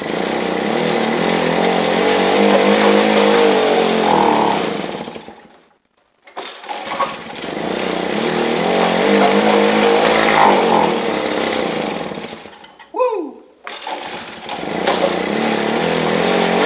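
A 1958 Wards Riverside moped engine runs loud and close with a steady buzzing putter that cuts out briefly and restarts, then sputters and revs again.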